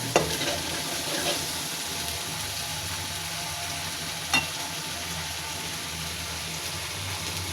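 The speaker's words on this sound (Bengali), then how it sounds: "নাড়াচাড়া করে নিব।" Taki fish frying in oil with turmeric while being stirred, an even, close sizzling hiss that holds throughout, with an occasional sharp knock of the spatula.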